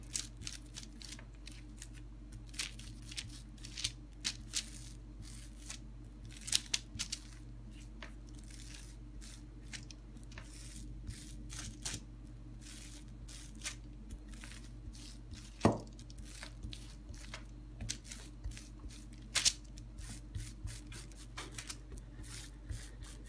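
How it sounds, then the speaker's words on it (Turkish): A wooden rolling pin working layered katmer çörek dough on a countertop, soft rubbing and rolling strokes with scattered light knocks, quiet and close, over a low steady background hum. "Merdane yardımıyla hamurumuzu büyütelim"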